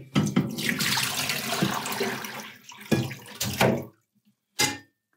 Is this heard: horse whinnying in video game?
no